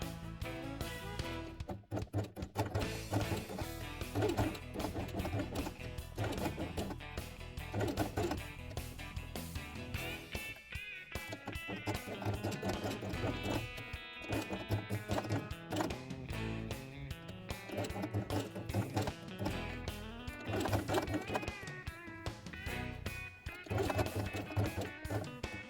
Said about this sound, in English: and sew it along the edge.